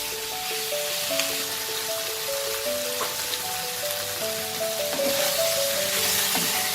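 Vegetables for Bengali dudh sukto sizzle steadily in a pan as salt goes in and they are stirred, a continuous close frying hiss with soft scraping and tonal clinks scattered through.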